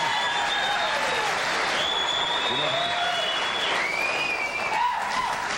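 Studio audience at a late-night comedy taping breaks into sustained applause, a dense, steady roar of many hands clapping with some whoops, no talking over it.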